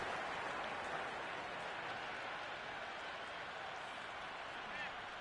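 A stadium crowd in the Cricket 26 video game applauds a six, a broad wash of clapping and cheering that stays steady and moderately distant the whole time.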